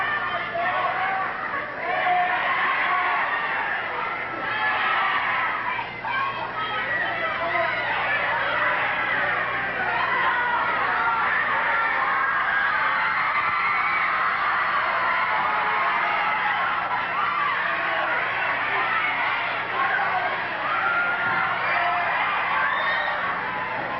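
Wrestling crowd at a Pacific Northwest tag-team match yelling and shouting continuously, a loud, dense roar of voices with scattered whoops, plus muffled commentary underneath.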